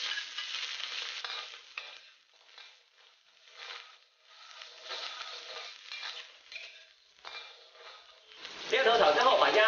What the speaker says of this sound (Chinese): 油热后放入料头炒香